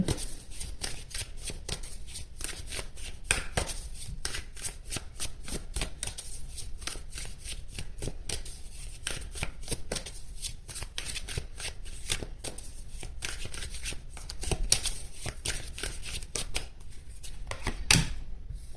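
Tarot cards are shuffled continuously, with a long run of rapid, crisp riffling flicks at close range and a slightly uneven rhythm.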